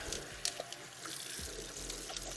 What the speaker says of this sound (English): I'm gonna have to soak the outside of this pan.